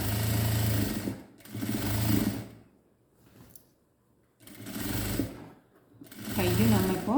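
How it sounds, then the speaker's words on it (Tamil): A sewing machine runs in several bursts, double-stitching the sleeve of a churidar. Each burst is a loud, steady mechanical whirr, and short pauses fall between the runs. "ஸ்டிச் பண்ணி நம்ம முடிக்கும்போது இன்னொரு டபுள் ஸ்டிச் போடுறேன் கைக்கு நான்."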